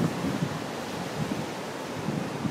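Steady wind blows across an open beach at Destin with a constant broadband rush, and surf washes in softly underneath. No voices.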